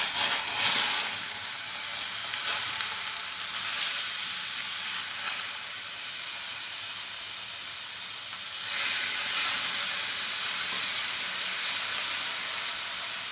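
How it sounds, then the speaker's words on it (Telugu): Chopped tomatoes hit hot oil in a pan and give a loud, continuous close sizzle that flares sharply at the start and again partway through, then hisses on steadily with no talking. "ఆయిల్ హీట్ అయిన తర్వాత ముందుగా మనం కట్ చేసి పెట్టుకున్న టమాటాలు వేసుకుందాం"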